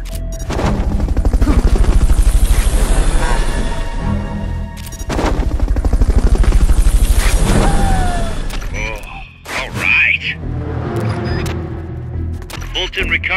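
A helicopter in the video game Metal Gear Solid Peace Walker gives a loud, rhythmic rotor chop that fades and returns, mixed with sharp bursts and other in-game effects.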